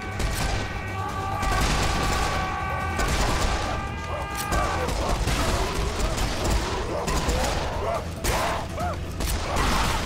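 Pistol gunfire in Serious Sam 4, dual pistols firing in a dense, continuous stream over a loud wall of game action and music, with sharp crashes and booms mixed in throughout.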